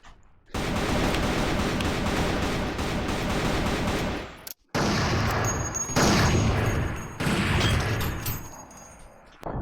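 A grenade blast in the VR shooter Virtual Army arrives as a loud, sustained roar of explosive noise that briefly drops out, then returns with rumbling debris and a few further booms, all close and dominant.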